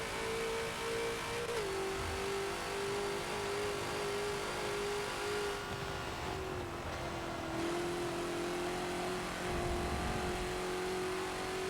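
A Ford GT40 race car in Forza lapping Spa, its engine holding a steady sustained drone with a slight pitch dip and recovery as it comes off a curb, loud and close with no talk.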